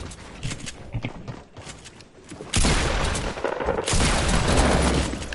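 Video game gunfire crackles in a dense fusillade, quieter bursts early giving way to loud sustained automatic fire with booms, heard up close from a first-person match.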